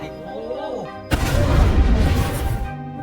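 Bomb explosion hidden in a gift package: a sudden heavy blast with a deep rumbling roar that lasts about a second and a half before cutting off, following a quieter tonal passage.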